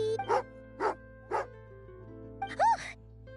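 A dog in a video game, hunting partner Tagarin, gives four separate sharp barks, the last one longer and yelping, heard close over a steady low musical hum.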